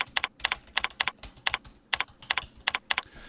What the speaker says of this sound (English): just click here and type a message